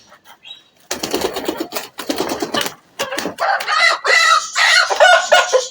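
A rooster and young chicks being fed millet cluck and squawk busily up close. Scratchy, overlapping calls and scuffling come in dense bursts, with what may be a crow among them.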